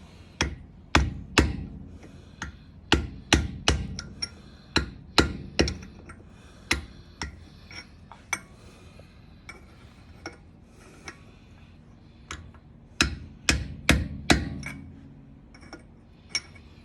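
A hammer strikes a chisel to bend a lock tab on the axle of an 80 Series Landcruiser during an inner axle seal repair. Sharp metallic blows land in quick bursts with short pauses between them, close and loud against a quiet workshop.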